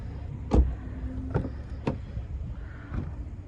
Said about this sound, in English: I need to unlock the car first of all